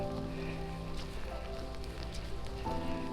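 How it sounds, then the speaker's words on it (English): Rain patters steadily on a hiking trail at Vroman's Nose above the Schoharie Valley, a continuous close hiss with scattered drops under a low, steady hum throughout. "even on a rainy day"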